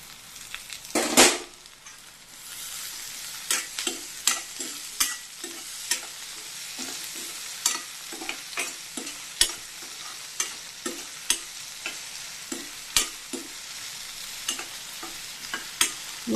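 Vegetables fry in a pan for rava upma, a steady sizzle broken by regular scraping stirs of a spoon, plus a sharp clatter near the start.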